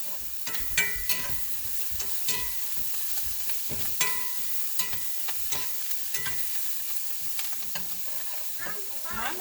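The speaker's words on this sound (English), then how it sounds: "now I'm going to go ahead and mix this all together" Breakfast hash sizzling in a pan while being stirred, a steady frying hiss punctuated by repeated spatula scrapes and taps at an uneven rhythm, close and moderately loud with no talk.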